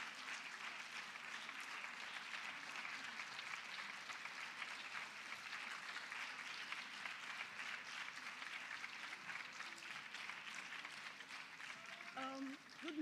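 Audience at a Girl Child Summit event applauding steadily as a speaker from the Lagos State Productivity Center walks up to the stage, a sustained, even wash of clapping at moderate distance.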